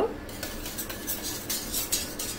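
A hand whisk beats mango candy sherbet in a metal pot on a stove over medium heat, giving quick, close, rhythmic metallic clicks and scrapes.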